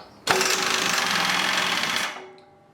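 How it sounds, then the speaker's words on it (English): A milling machine cuts the top off an RC car's ESC, starting abruptly as a loud, steady high-pitched whine with a grinding buzz that holds for about two seconds, then winds down and fades. "milling the ESC."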